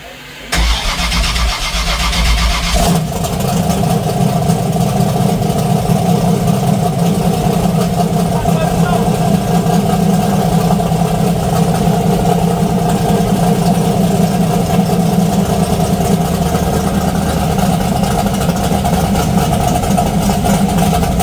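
A drag racing motorcycle engine catches after a brief start attempt and then runs steadily at a loud, close idle, a dense continuous roar with no voices.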